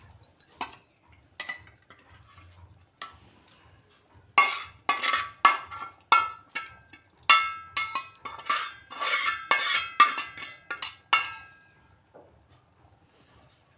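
A spoon stirs palak paneer, spinach gravy with paneer, in a metal pan in a home kitchen, giving a quick run of close, bright clinks and scrapes that thicken in the middle and then fade to a few light taps.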